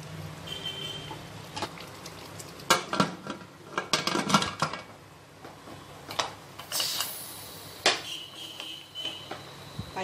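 Metallic clanks and scrapes come from a pressure cooker lid being fitted onto the pot while cooking stuffed brinjal curry (gutti vankaya). Several sharp knocks and rattles sound close by, with no talking.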